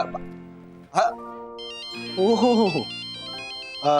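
A mobile phone plays a melodic electronic ringtone at the office of a TV sitcom, a looping tune heard fairly close, with a brief spoken exclamation at the start and voices breaking in around it.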